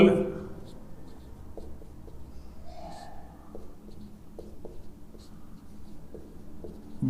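Pen or chalk scratching in short repeated strokes while writing notes on strong electrolytes in an electrochemistry lesson, faint and close beneath a man's continuous lecturing.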